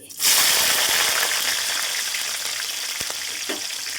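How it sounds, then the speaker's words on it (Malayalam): Garlic drops into hot oil with mustard seeds for a pickle, bursting into a loud, dense, continuous sizzle close up that holds steady for several seconds, with a few soft knocks near the end. "അതിലേക്ക് ഇനി വെളുത്തുള്ളി"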